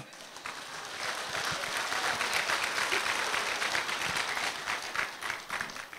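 Husbands in an audience at a closing ceremony at Valli Mahal, Chennai, clap together in a sustained, even round of applause, fairly soft and from a little distance, rising briefly and then tapering.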